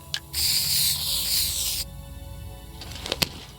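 A spray can hisses in The Long Dark, one steady burst lasting about a second and a half, loud and alone, followed by quieter clicks and handling sounds.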